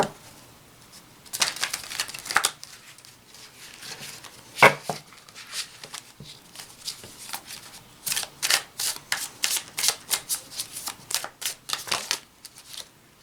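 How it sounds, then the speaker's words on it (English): Tarot cards are shuffled over and over, a steady run of papery riffles and soft slaps that grows quicker and more regular toward the end. "take some time to shuffle."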